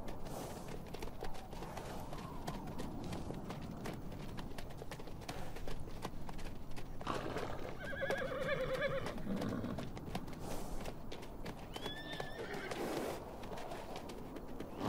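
Wild horses in Namibia whinny a few times over steady clip-clopping hooves and a busy outdoor background, with a bird calling faintly.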